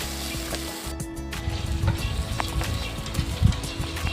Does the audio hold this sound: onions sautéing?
yes